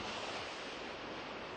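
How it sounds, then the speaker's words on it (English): Sea waves wash over a flooded beach against eroding coastal dunes at Ystad, a continuous roaring surf with no pauses, close and fairly loud. "the dunes are now subject to the direct attacks of the waves"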